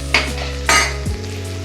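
Fennel seeds sizzle in hot oil in a pan for a drumstick fry, a steady close crackle with two quick stirring scrapes over it.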